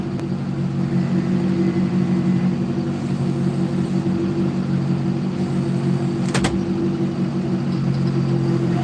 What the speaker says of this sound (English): It's a nice little tractor.